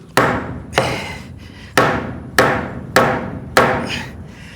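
Hammer blows striking wooden stall beams in a horse barn, six sharp, loud, evenly spaced whacks with short ringing decay, no talking.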